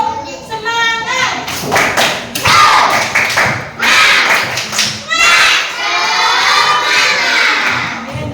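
A group of children in a school setting does a rhythmic chant-and-clap routine, tepuk semangat. Bursts of close, loud clapping alternate with shouted chanting voices in a lively, patterned rhythm.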